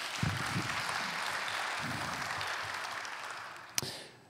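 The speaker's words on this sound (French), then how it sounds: "Oui, vous pouvez encore l'applaudir." Audience applause at an agricultural innovation award ceremony, a steady wash of clapping that holds for several seconds, then fades, with a sharp knock near the end.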